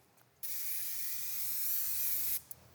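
Spray can hissing onto a fake banknote during counterfeiting: one steady, loud burst of about two seconds that starts and stops abruptly, framed by quiet room tone.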